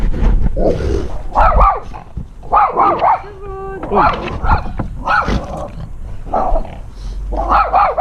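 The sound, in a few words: dog barking at fence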